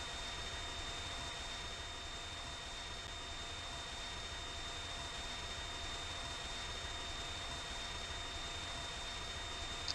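An aircraft flying in the Minecraft MCHeli mod makes a steady, quiet engine drone with a thin, constant high whine, holding at an even level throughout with no talk.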